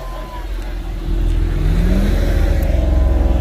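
Car pulling away from a large car meet, its engine note rising and swelling to a steady, fairly loud drone, with a faint voice briefly in the background.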